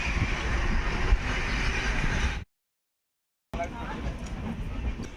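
A train pulls into a station with a steady, loud, rumbling roar that cuts out completely for about a second before resuming.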